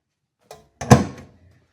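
Fuel filler door on a 2019-2022 Toyota Camry, refitted with a new spring, springs open with a soft click followed by a firmer, hollow thunk, close and alone.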